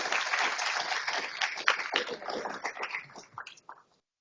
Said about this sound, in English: How about a round of applause for Catalytics?